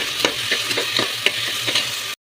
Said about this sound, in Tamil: கொஞ்சமாக எண்ணெய் ஊற்றி பெரிய வெங்காயத்தையும் இந்த தக்காளியும் வதக்கி எடுத்துக்கணும்